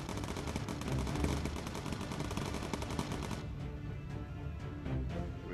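Rapid machine gun fire from a bomber's turret in the WWII game Bomber Crew, a loud, dense stream of shots that thins into sparser bursts.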